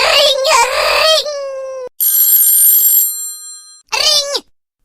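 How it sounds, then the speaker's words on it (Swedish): A telephone bell rings loudly in two long trilling bursts with a pause between them, followed by a short vocal-sounding cry; no speech is heard. "Hör du inte att det ringer?"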